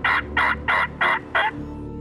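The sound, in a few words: wild turkey gobbler gobbling in the woods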